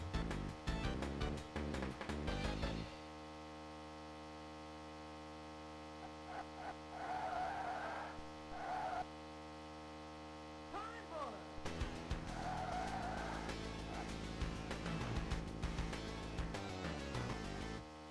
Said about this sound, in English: the stock car here has the lowest top speed. It also slides around a lot.